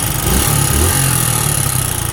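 A Suzuki Gixxer 150 FI motorcycle engine runs right after starting, with a loud, steady, close-up idle and a slight rhythmic pulse throughout.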